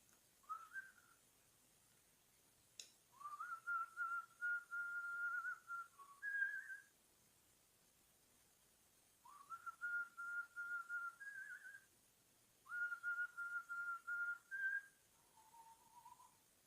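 A person whistles a melodic tune in several phrases separated by short pauses, clear and close, alone without talk.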